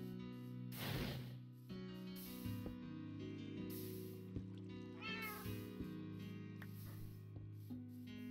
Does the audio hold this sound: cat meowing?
yes